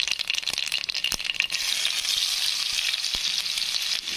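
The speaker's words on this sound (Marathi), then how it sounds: "नंतर टाकून घेऊ कांदा." Steady close sizzling of oil in a pan with cumin and mustard seeds, as onion goes in, with a few sharp pops and spatters over a continuous hiss and no voices.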